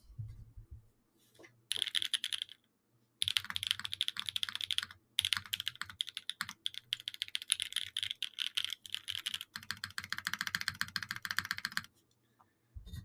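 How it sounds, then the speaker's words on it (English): Fast bursts of crisp, clacky typing on a mechanical keyboard with JWK Black Lotus switches on a PC plate, in close, rhythmic runs broken by short pauses, with no talking. "It's the same keycaps, same everything, except this time it's JWK Black Lotuses on PC."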